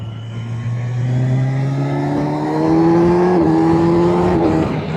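A Kawasaki Versys 1100 SE inline-four engine revs up smoothly through the gears, its whine climbing steadily in pitch as it accelerates, close and loud.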